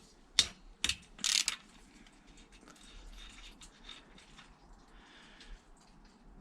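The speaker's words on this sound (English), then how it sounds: "I'm now going to loosen off the oil feed." A ratchet loosening the oil feed on a Triumph Bonneville T140 motorcycle, three quick close clicking bursts within about a second, then quiet faint workshop clinks.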